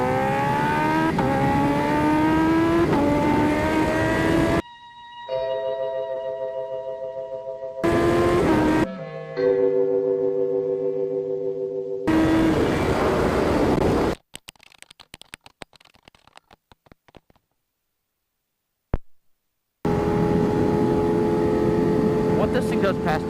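A street-legal Kawasaki Ninja H2R motorcycle engine revs hard past 10,000 rpm, loud, rising whines in bursts broken by sharp cuts and near silence, with someone talking in between.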